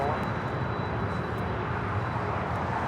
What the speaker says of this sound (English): Qantas, flight 11 coming from Sydney, A380 Super